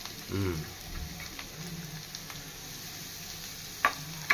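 Shredded cabbage and green chillies frying in a pan for spring rolls, a soft steady sizzle with a brief stir at the start and a couple of sharp clinks near the end, fairly quiet.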